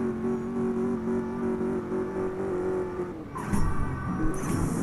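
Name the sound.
car accelerating in a 0 to 100 race, CSR2 video game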